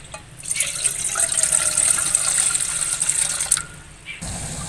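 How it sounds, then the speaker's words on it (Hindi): Water gushes steadily into a pot for several seconds, a bright rushing splash that tapers off near the end. "इसमें हम पानी डालेंगे।"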